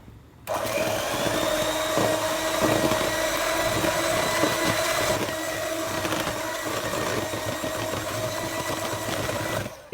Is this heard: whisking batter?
yes